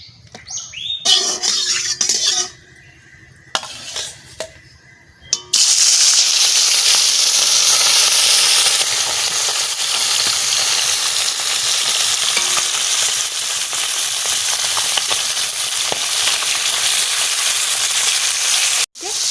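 Oil heating in a pan for a greens-and-fish curry: a few clatters and knocks of kitchen prep, then a loud, steady, close sizzle that hisses on without break to the end.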